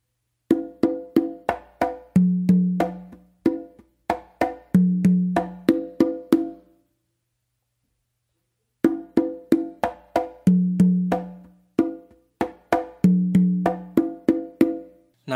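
Conga drums play a modern Patato-style tumbao: crisp, close hand strikes in a steady syncopated pattern with ringing low open tones, two phrases separated by a couple of seconds of silence.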